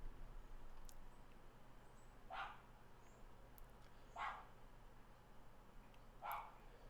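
A dog barking somewhere off in the distance, three faint separate barks spaced about two seconds apart over a steady background hum.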